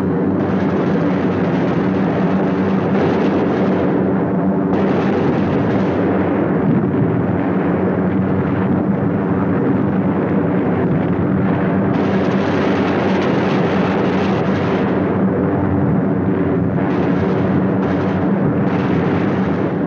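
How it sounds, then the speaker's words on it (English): Bombs exploding on harbor targets at Danzig during a World War II bombing raid, a loud continuous rumbling roar of blasts and aircraft noise with repeated surges of heavier explosions. "The third task force comes over its target at Danzig. Bombs away."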